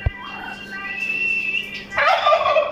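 A turkey gobbles loudly nearby, a rapid warbling burst that swells into a stronger gobble near the end, with a single knock at the very start.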